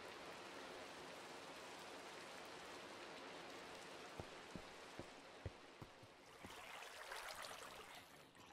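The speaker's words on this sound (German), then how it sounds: "Und ich höre schon wieder Regen" Rain falling in Minecraft, a soft steady hiss of drops continuing throughout, with a few muffled thumps near the end.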